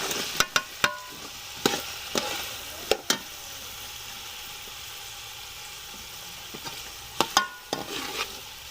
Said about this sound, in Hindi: जब आधा हमारा ये टमाटर गल चुका है तो हमने इसके अंदर डाल देनी है सब्जी जो हमने काट के धो के रखी हुई थी।